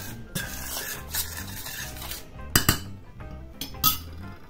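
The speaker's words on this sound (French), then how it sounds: "Je mélange." Flour and malted brewer's yeast are stirred in a mixing bowl for dog biscuits with tuna, a close scraping rasp punctuated by sharp clinks of the utensil against the bowl, irregular and fairly loud.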